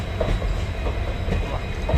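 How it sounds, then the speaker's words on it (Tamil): A Chamrajanagar to Mysuru passenger train with sleeper coaches rolls along with a loud continuous rumble and rhythmic clickety-clack of wheels over rail joints, close by and without talk. "நம்ம வண்டி தாங்க ட்ரெயின் உள்ளே போயிட்டு இருக்கு பார்த்தீங்களா"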